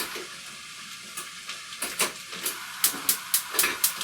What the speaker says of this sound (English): going to get the olive oil going over in this fry pan